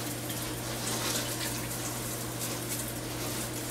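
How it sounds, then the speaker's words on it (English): Water sprays onto a tray of broccoli microgreen seeds in a steady, soft, unbroken hiss and gush that stays at a constant level throughout. "now I'm going to water it because I want to get those seeds really soaked."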